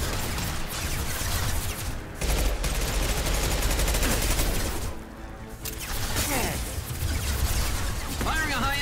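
Repeated high-impact gunshots in Mass Effect 2 on Insanity difficulty, loud bursts of gunfire amid dense combat noise that runs throughout, with a brief lull midway.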